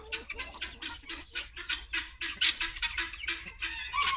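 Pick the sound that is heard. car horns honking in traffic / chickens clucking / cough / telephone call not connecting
chickens clucking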